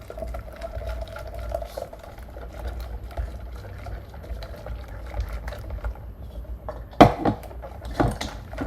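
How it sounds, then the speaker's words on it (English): A whisk stirs egg mixture into hot milk in a pot for a coconut cake, a soft continuous swishing and scraping with a couple of sharper knocks against the pot near the end. "I'm gonna whisk the entire time."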